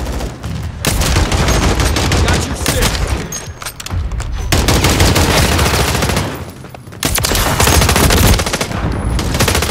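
Bursts of automatic gunfire rattle hard and close in a Call of Duty Modern Warfare 3 multiplayer match, in three long volleys separated by brief pauses.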